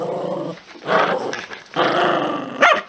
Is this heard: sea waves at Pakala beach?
no